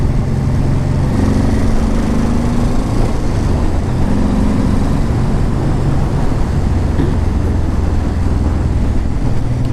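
A Honda VTX 1800 cruiser motorcycle pulling under throttle on the road: a steady low engine drone rises and falls slightly in pitch, buried under loud, constant wind rumble on the microphone, with no voices.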